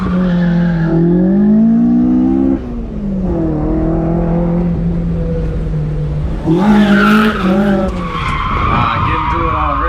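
A Toyota AE86 with individual throttle bodies revs loudly and close by, its engine note rising and falling in repeated sharp blips and sustained pulls over roughly ten seconds.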